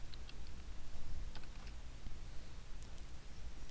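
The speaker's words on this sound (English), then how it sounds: "You can type question number one." Typing on a computer keyboard while entering questions into an Excel spreadsheet, a few faint, scattered key clicks buried under a steady background hiss, no talk.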